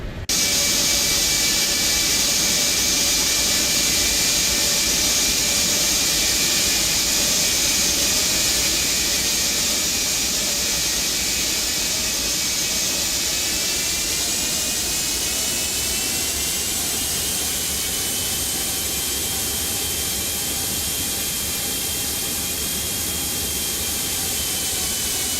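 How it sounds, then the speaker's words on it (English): Twin jet engines of a simulated Gulfstream 550 whine and roar at steady high power, a constant loud hiss with tonal whines that shift upward midway as they spool, heard alone without talk. "That's so nice, isn't it? Those engine sounds."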